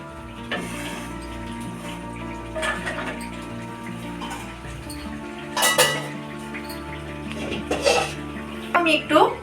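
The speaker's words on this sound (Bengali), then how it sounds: "এই মটন সিদ্ধ করার যে জলটা তুলে আছে সেটা দিয়ে আবারও একটু কষিয়ে নেব" Mutton being braised and stirred in a pan with its reserved boiling water, Thakur bari style kosha: spoon scrapes and metal clinks against the pot come in scattered bursts over a low, steady cooking hum, with a voice talking at times.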